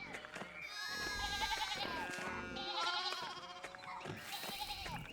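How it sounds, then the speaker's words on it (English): Several sheep in the video game Pentiment bleat over one another in wavering, overlapping cries, steady and fairly close, with a faint background hum. "Sheep making a fuss over something."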